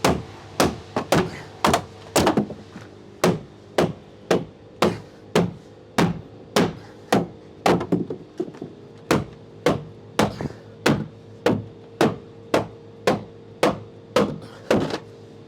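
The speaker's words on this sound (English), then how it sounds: "So we will remove the noggins." Timber noggins are knocked out of an erected garden room frame with a regular series of sharp, hard wooden thuds, roughly two per second, close and loud, struck steadily with no talking.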